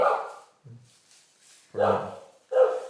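A dog barks in short separate bursts, about three sharp woofs with brief quiet gaps between them, fairly close and clear.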